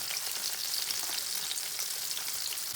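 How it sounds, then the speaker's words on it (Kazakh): Chicken pieces frying in hot oil for homemade KFC, a loud, steady close-up sizzle with fine crackling throughout. "Екі жағын 4 минуттан пісіріп аламыз."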